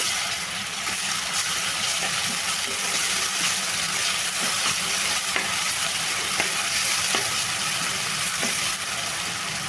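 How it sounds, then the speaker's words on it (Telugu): Ginger garlic paste fries in a pan along with onions and green chillies, giving a loud continuous hissing sizzle up close, broken by a few light stirring clicks, with no speech. "ఒక స్పూను అల్లం వెల్లుల్లి పేస్ట్ వేస్తున్నాను వేసుకొని బాగా కలిపేసుకోవాలండి"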